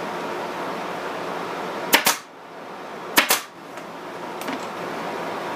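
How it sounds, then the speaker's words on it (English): Staple gun shooting staples into an upholstered cornice board, two sharp, close snapping shots about a second apart with a fainter third click after, over a steady background hiss. "shoot a couple of staples"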